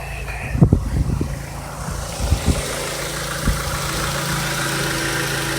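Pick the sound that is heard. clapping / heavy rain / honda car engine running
honda car engine running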